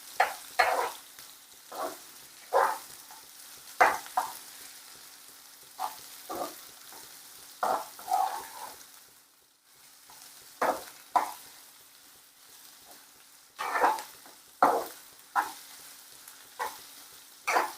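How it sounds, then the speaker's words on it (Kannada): Onions fry in a pan for idli upma while being stirred, heard as rhythmic bursts of scraping and sizzle about once a second over a quiet background. "ಈರುಳ್ಳಿ ಸ್ವಲ್ಪ ಚೆನ್ನಾಗಿ ಫ್ರೈ ಆಗಲಿ"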